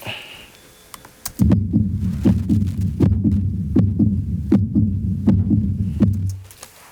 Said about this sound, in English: Let's hear the heartbeat.